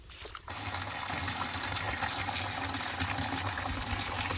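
Rainwater from a roof pouring down onto a motorbike being washed outdoors, a steady, continuous gushing and splashing that starts abruptly and keeps going at an even, fairly loud level.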